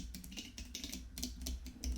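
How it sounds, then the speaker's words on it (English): Rapid keystrokes clatter on a computer keyboard, close and crisp, in an uneven quick rhythm with no voices. "After some typing,"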